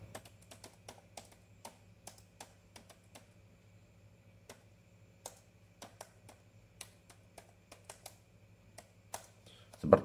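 Keys on a computer keyboard are tapped in quick, irregular clicks as a fastboot command is typed, close and quiet against a faint steady hum, with no talking.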